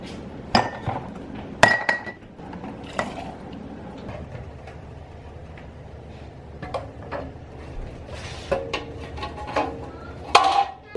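Glass canning jars of baked beans are set into a metal canner with a series of sharp, close clinks and knocks, spaced irregularly with quieter shuffling in between.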